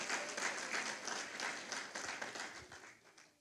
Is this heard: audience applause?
yes